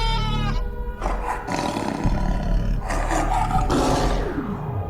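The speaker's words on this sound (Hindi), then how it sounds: "एक बाघ वहां से सीधे गांव में घुस आता है।" A tiger roars loudly and close, a series of deep, rough, drawn-out roars and growls following one after another with no voices.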